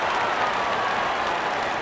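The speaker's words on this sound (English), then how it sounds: "And there comes the celebration, and the crowd loves it." A cricket stadium crowd cheers and applauds after a bowler takes a wicket during an England versus Pakistan T20 match, a dense, loud, continuous roar of many people.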